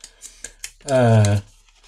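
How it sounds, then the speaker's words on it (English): A few quick snips of scissors cutting open a box, light dry clicks in the first moment, followed by a short hummed voice. "open a box with a pair of scissors"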